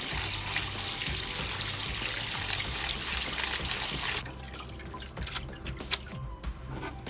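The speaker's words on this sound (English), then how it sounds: "Remove the water and just wash for running water for 2-3 times." Running tap water splashes steadily over noodles being rinsed, a bright continuous hiss that stops partway, leaving softer drips and small clatters at close range.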